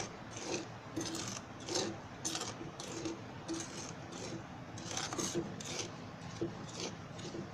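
Sabudana roasts in ghee in a pan, making soft, rhythmic scraping and rasping strokes about once a second as it is stirred, close and fairly quiet with no talk.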